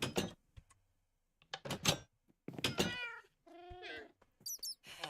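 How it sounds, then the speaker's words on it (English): A white cat in the video game Minecraft meows several times in short, separate calls, clear and close, with a few soft clicks and knocks in the pauses. "May as well tame the white cat that's in the boat as well"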